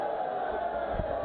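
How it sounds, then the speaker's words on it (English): Phil Taylor fans at a 2022 World Seniors darts match give a sarcastic cheer for a score of 7, a brief swell of crowd noise heard at a distance under steady arena murmur. "a sarcastic cheer for the 7"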